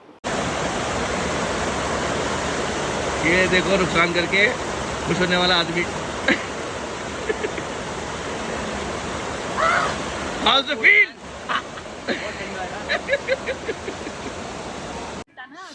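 Loud, constant roar of rushing water fills the scene while someone speaks over it in short bursts.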